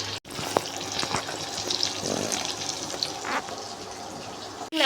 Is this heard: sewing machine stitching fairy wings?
no